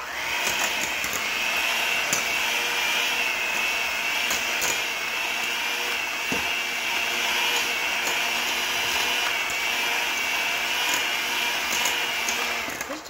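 An electric mixer creaming granulated brown sugar for chocolate chip cookies, a steady, loud motor whir running unbroken and close throughout.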